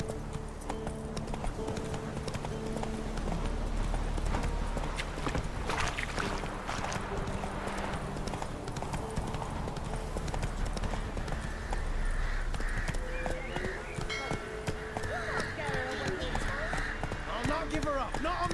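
Horse hooves clip-clop at a steady riding pace in The Witcher 3 video game, a continuous rhythmic patter under game music and ambience, with spoken dialogue over it.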